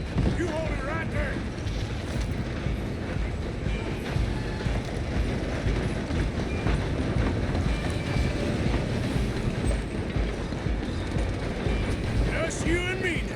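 A steam train in the Red Dead Redemption 2 video game runs with a continuous dense rumble and clatter of wheels and cars, mixed with gunfire-like bursts and shouting voices throughout.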